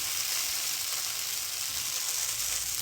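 A Rayalaseema-style dosa spread with Bombay chutney and red chilli paste, sizzling on a hot pan: a steady, close, bright hiss of frying with no pauses, heard alone.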